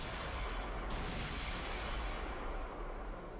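Battleship turret guns firing in the naval warfare game Ultimate Admiral Dreadnoughts, a dense, continuous rumbling roar of heavy artillery with a sharper blast near the start, loud and sustained with no talk.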